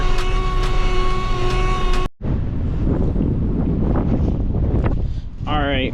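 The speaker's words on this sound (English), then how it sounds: "it's really windy out" Strong wind buffeting a microphone outdoors on a farm while manure is unloaded from a spreader: a steady roaring rush that drops out for a moment and then returns, with a voice speaking over part of it.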